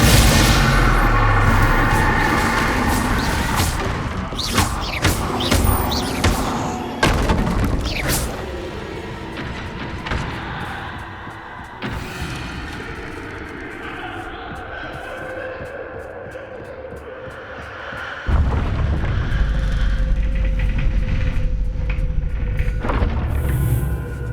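Spell blasts and booming impacts from Hogwarts Legacy on PS5, a dense run of loud crashes and explosive bursts layered over a continuous game soundtrack, with heavier thumps returning near the end.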